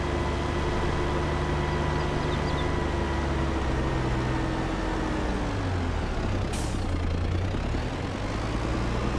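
Kubota tractor engine in Farming Simulator 22 runs at a steady loud drone for the whole stretch, its pitch dipping slightly partway through, with a brief hiss near the end.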